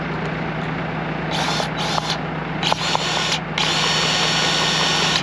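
A grease gun pumps grease into the fittings on a combine header during wheat harvest, giving short bursts of mechanical whirring against a constant droning hum.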